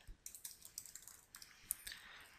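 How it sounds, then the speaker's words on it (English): Quiet, close typing on a computer keyboard while entering a logo name into an After Effects text layer, a brisk run of light key clicks in an uneven rhythm. "I'm just going to type in a logo name."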